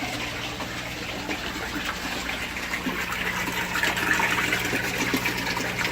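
Water runs steadily through the filter of a mini modular aquaponics system and spills into the sump, a continuous close gushing and trickling over a low pump hum.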